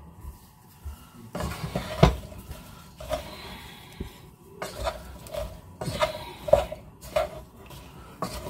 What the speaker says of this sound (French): Donc là, on mélange bien.